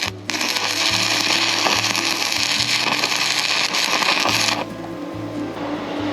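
Tack welding with a Sefaspe MMA 120 stick welder, a loud, close, steady crackling buzz lasting over four seconds, then stopping abruptly and leaving a lower mechanical hum.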